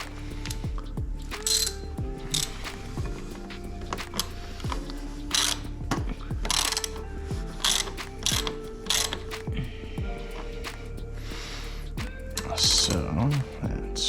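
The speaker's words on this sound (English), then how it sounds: "we're going to need a socket, and we're going to turn that clockwise all the way" Socket ratchet clicking in quick bursts while turning the high-speed compression adjuster on a new bike's rear shock, close and crisp, with mechanical ticks and a voice talking throughout.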